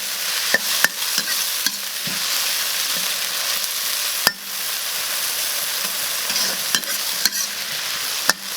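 Sweet potato vines and pork belly stir-fried in a wok with soy sauce and chili give off a steady, close sizzle, broken by sharp spatula knocks and scrapes against the metal.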